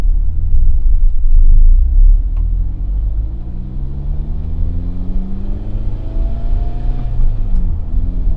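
A turbocharged car fitted with an XTD clutch accelerates up a road, heard from inside as a loud, continuous low engine rumble with rising tones climbing through the gears.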